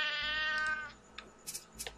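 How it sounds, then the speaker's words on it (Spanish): A cat in the survival game Sheltered gives one drawn-out, clear meow, followed by quieter clicks and short bursts of game sounds. "El gato tiene hambre."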